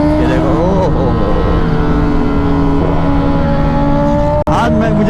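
A Ducati motorcycle with its exhaust removed idles and revs loudly and continuously with a rough, droning engine note, rising briefly in pitch, with a short cut near the end.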